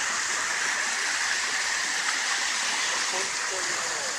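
Ryumon waterfall in Kumamoto rushing in a steady, loud, broadband roar of falling water close by, unbroken from start to end.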